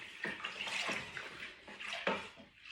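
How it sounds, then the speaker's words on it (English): Malt extract being stirred into a few litres of hot water for a homebrew stout, a steady watery swishing and sloshing with rhythmic strokes, close and moderately quiet, with no talking. "The extra hot water I added in for cleaning out the can has made this easier to stir"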